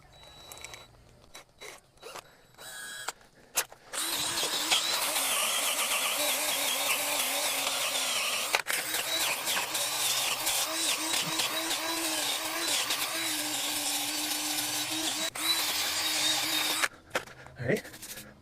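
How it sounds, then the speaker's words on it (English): A power drill runs loudly and continuously for about thirteen seconds during a brick paver repair, with a few brief dips and short bursts before and after. "It goes directly on the drill."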